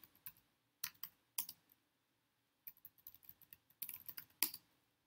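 Keys clack on a computer keyboard as a password is typed during a Windows Subsystem for Linux setup, quick irregular bursts of close clicks separated by short pauses.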